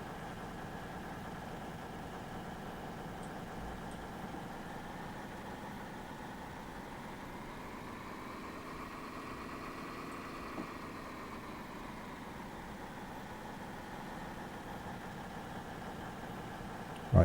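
A Class 221 diesel train idles in Train Simulator 2018 on the North Wales Coast line toward Chester, a faint, steady engine hum with a slow swell in pitch partway through.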